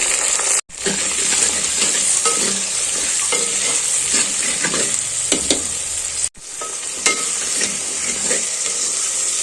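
Onions fry loudly in hot tempering oil in a clay pot, a dense continuous sizzle with small stirring clicks and two abrupt momentary dropouts, no voices.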